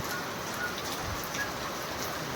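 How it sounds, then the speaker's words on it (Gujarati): Heavy rain falls steadily outdoors without wind, a dense, even hiss of drops on surfaces that stays constant throughout, with no voices heard. "વરસાદ આવવો માંડ્યો હે"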